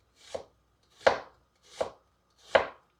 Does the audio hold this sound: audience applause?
no